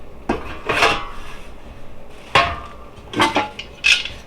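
A thick, heavy metal grilling tray from a Gourmia FoodStation air fryer is handled, giving several sharp metallic clanks and scrapes spread irregularly, close and moderately loud, with no talk over them.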